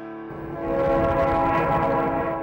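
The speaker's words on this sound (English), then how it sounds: "The sounds of rural Ashland County warn of a passing train" A passing train's horn sounds in rural Ashland County countryside, a loud sustained chord-like blast that swells and holds over the rumble of the train, with no voices.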